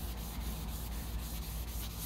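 Clear coat being sanded by hand with the 3M Sand & Polish System, a steady rhythmic rasp of repeated back-and-forth strokes, close and fairly loud, with no speech.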